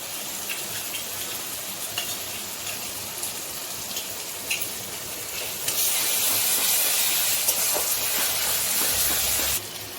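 Garlic paste added to frying spices in a pan for a Bengali dish, a continuous close sizzle and hiss that jumps louder about halfway and holds steady, with no voices.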